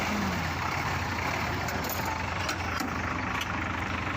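A Mitsubishi Fuso truck's common-rail turbo-intercooled diesel engine, just started in a workshop, idles loudly and steadily nearby with a dense, constant rumble and a few faint clicks.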